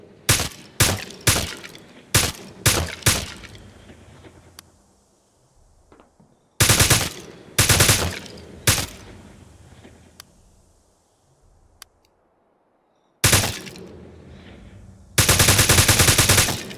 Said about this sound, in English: Got the burst, and this is the MP5.